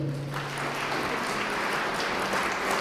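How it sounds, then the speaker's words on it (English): A conference audience at the TechChill 2019 startup pitch competition in Latvia gives a presenter a sustained round of applause, a dense wash of clapping that builds slightly toward the end. "a huge round of applause for HackMotion"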